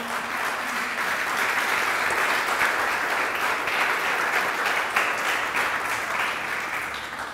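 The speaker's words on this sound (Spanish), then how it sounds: "Denle un fuerte aplauso a Cristo." Sustained applause from a church congregation, dense clapping from many people that holds steady throughout before tapering slightly at the end.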